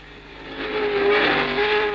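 1962 Formula 1 race cars at Rouen-Les-Essarts, a steady high engine whine swelling loud and close then holding, with a sustained tonal pitch over broad rushing noise and no talk.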